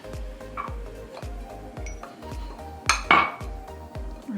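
A spoon clinks steadily against a bowl while chocolate chips are stirred into banana muffin batter, a regular close rhythm of light metallic taps, with a couple of sharper clatters partway through.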